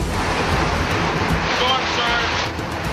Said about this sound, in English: Storm surge.